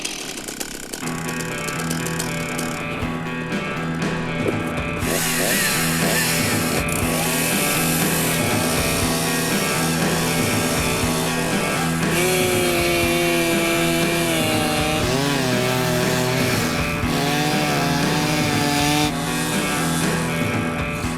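A loud motorized saw drones continuously, its engine pitch rising and falling as it grinds through ice, with no voices.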